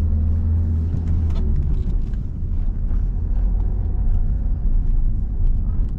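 A car pulling away and picking up speed in second gear during a driving lesson near a roundabout, a steady close low engine rumble running unbroken throughout with cabin wind noise.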